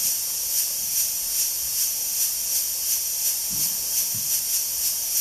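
A chiptune synthesizer imitating an accelerating steam locomotive, giving a steady, loud electronic hiss pulsed in regular chuffs that come faster over a few seconds, with no talk.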